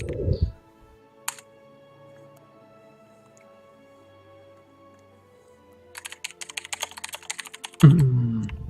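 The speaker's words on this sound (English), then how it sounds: "Heavy mechanical typing." Heavy typing on a mechanical keyboard during a community game skirmish lobby, with only a few sharp clatters early on and a dense run of keystrokes near the end, followed by a voice.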